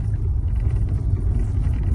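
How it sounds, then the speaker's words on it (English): A Nissan Navara single-cab 4x4 in four-high driving a bumpy rocky dirt road, heard as a steady loud low rumble of engine and tyres from inside the cab, with no speech. "Dirt roads don't seem to faze this Navara at all."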